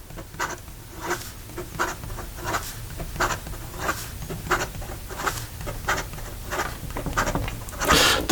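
A Pilot Custom 74 fountain pen moves quickly across paper, its nib making rhythmic scratchy strokes about twice a second, close and clear with no voices.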